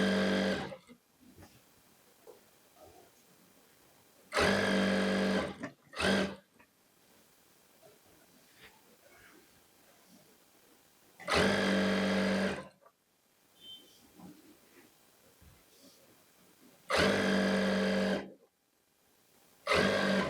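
A sewing machine stitches kurti fabric, joining lining to the main cloth at half-pedal speed, in three loud buzzing runs of a few seconds each with quiet pauses between.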